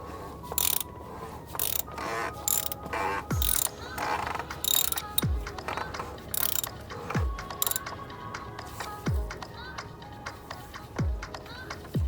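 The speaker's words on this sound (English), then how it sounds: "we're also going to torque this one down to 18 foot-pounds of torque" A torque wrench ratchets down the oil filter housing on a BMW 335i with the N55 engine, tightening to 18 foot-pounds. Several short bursts of rapid clicking are separated by brief pauses and punctuated by low knocks, close and clear.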